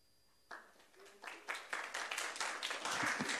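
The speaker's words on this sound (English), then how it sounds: "I would appreciate it if you hold the applause down." Audience applause at a city council meeting, starting with a few scattered claps that quickly build into sustained, dense clapping from the crowd in a large room.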